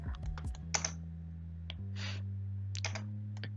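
A few quick keystrokes click on a computer keyboard, close and crisp, ending in a firm Enter press, over a low steady hum.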